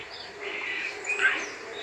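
An Oriental magpie robin, or dayal, in Vidarbha gives a short, clear whistled call of a few rising and falling notes, close and alone.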